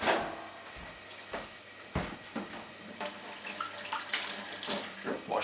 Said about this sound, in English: Wash those hands.